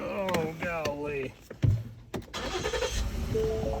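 A car engine cranks and starts after an oil change, with a short burst of starter noise and then a steady idle rumble. Voices talk over the first part.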